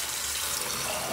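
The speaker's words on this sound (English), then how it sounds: "So we're gonna use hot water again." Hot water running steadily from a kitchen tap while bottles are being cleaned, a continuous close hiss and splash with no talking.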